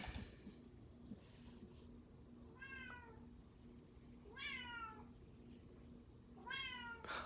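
A house cat meows three times, each call clear and drawn out, spaced a couple of seconds apart over a low steady room hum indoors.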